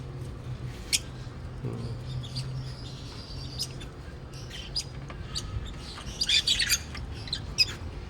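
Scattered bird chirps and tweets, mostly brief and fairly faint, rising to a small cluster of calls near the end over a low steady background hum.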